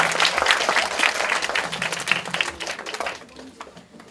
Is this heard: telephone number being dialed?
no